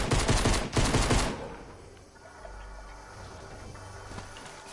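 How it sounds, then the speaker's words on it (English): Loud rapid bursts of gunfire in Fortnite crackle for the first second and a half, then cut off, leaving a quieter low rumble and faint background game sounds. "Is that you shooting at me?"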